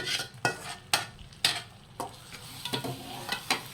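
Sweet pongal rice with jaggery syrup being stirred in a pan over low flame, a spoon scraping and tapping the metal about every half second over a soft sizzle, close with no voices.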